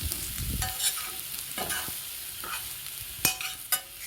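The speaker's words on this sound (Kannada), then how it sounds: "ಇದನ್ನ ಚೆನ್ನಾಗಿ ಹುರ್ಕೋಬೇಕು ಇಲ್ಲಾಂದರೆ ಹಾಳಾಗುತ್ತೆ ಬೇಗ" A vegetable palya is stirred and fried in a pan, with a soft steady sizzle broken by scraping and clinking of the spoon against the pan, close and unaccompanied.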